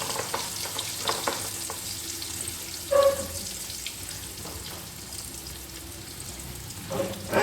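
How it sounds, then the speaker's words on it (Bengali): Potato pieces frying in hot oil in a home kitchen, a steady soft sizzle with brief clinks and stirring sounds at moderate distance, no voices. "তাহলে প্রথমে আমি আলু ভেজে নেব"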